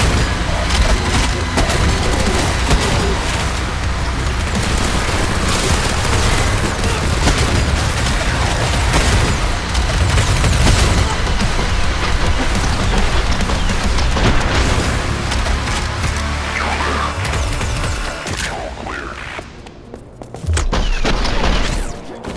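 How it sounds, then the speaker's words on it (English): Explosions, heavy booms and dying demons in the first-person shooter DOOM: The Dark Ages, a dense and loud continuous barrage of blasts and crunching impacts, with pounding game music mixed in. "nearly drowned out by the sounds of explosions and dying demons"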